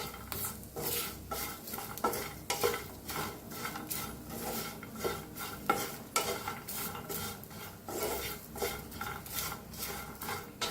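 Spoon stirring a potato mixture in a pan, with repeated scraping and clinking strokes against the metal in an uneven rhythm and a faint sizzle underneath, close and fairly loud.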